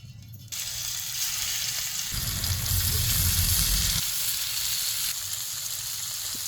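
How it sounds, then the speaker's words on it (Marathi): Marinated fish frying in a little oil sizzles and hisses steadily. The sizzle swells louder for a couple of seconds, then settles back, with no talk over it. "मासं तळायला थोडस तेल टाकायचं"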